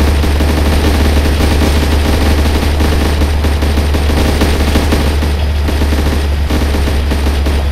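Cannon and machine gun fire in a war video game set on a street, rendered as a continuous dense barrage of rapid shots with a heavy low rumble underneath, loud and unbroken throughout.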